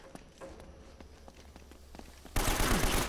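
Enemy gunfire in Uncharted: Drake's Fortune, a third-person shooter: faint scattered shots early on, then a loud sustained burst of rapid fire filling the last second.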